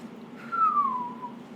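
A person whistles a single gliding note that slides downward, soft and alone against a quiet background.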